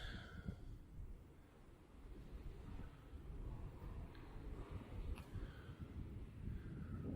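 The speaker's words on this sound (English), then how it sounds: "Still windy as hell out there." Low, steady wind rumbling and buffeting outside, heard from the upstairs of a building at Grove Rake mine, faint and continuous with no voices.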